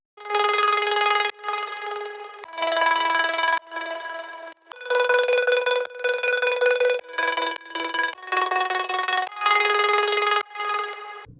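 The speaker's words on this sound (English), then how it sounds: "one of my favorite sounds is this plucky lead." Bright plucky synth lead from a melodic dubstep project in FL Studio, playing a run of short, sharp, bell-like notes in a rhythmic phrase, dry and alone with no talking.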